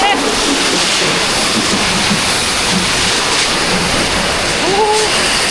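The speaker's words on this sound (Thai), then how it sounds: "ฝนพายุมาเลย" A dense, steady roar of heavy rainstorm pours down without letup, loud and close, with a faint tonal whine rising briefly near the end.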